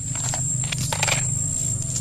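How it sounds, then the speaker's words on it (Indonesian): A toy dinosaur lets out a steady electronic roar lasting about two seconds, loud and close over a constant low hum, amid talk about children's toy trains. "Ini mainan dinosaurus."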